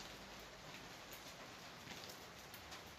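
Steady rain falling in the city of Ganja, a continuous hiss of drops at moderate distance with no speech, even in loudness throughout.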